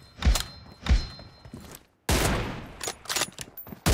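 Gunfire in a PUBG Mobile match: two sharp, separate shots, a brief lull, then a loud, dense burst of firing with more scattered cracks.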